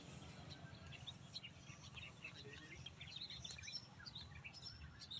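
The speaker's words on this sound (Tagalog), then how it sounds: "Ibon lang naririnig ko ah." Birds chirp faintly in scattered short tweets across an open onion field in Nueva Ecija, over a quiet low outdoor rumble, with no voices.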